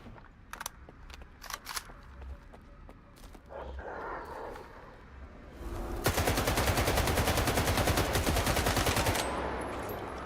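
Gunfire in the video game STALKER 2: a few scattered single shots, then a loud sustained burst of rapid automatic fire lasting several seconds, with mechanical clicks between.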